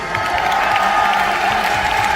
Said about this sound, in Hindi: ये ताली पैसे पे खरीदा हुआ नहीं है, ये दिल से निकलता है